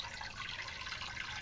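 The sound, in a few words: container fountain kit running water into plastic flower pot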